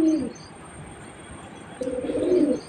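Two soft, low cooing calls from a pigeon, one at the start and a longer one near the end, with quiet ambient background between them.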